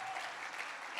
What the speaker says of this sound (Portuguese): Aplauda pela vida dos irmãos que estão aqui nessa noite.